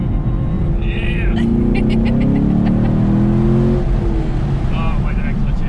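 A Chevrolet Camaro SS 1LE engine rises in a loud, close rev that climbs and then drops off as the clutch goes in, with a deep rumble throughout and a voice talking over it.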